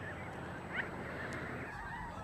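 Canada geese in Alaska calling in a group, with a few faint honks scattered over a steady outdoor wash and no talk.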